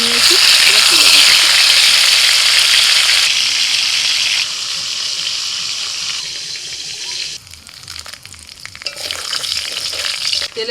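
Chicken pieces seasoned with turmeric and salt fry in hot oil in a pan, a loud dense sizzle that dominates, then eases and becomes patchier with stirring toward the end, with no voice over it.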